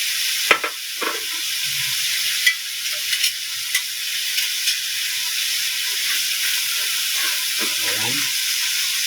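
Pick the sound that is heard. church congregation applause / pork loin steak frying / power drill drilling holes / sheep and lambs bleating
pork loin steak frying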